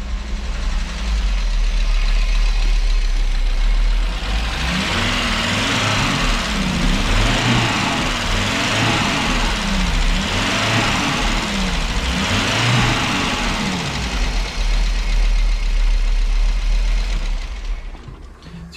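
A rough old turbocharged Audi S2 engine idles loudly and unevenly, running poorly, with a rhythmic pulsing throb and a steady low rumble throughout, no voices.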